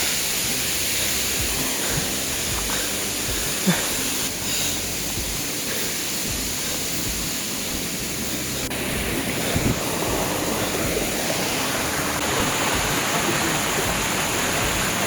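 Ghonsari waterfall rushing in a steady, broadband roar that holds evenly throughout, with a few faint knocks and no talking.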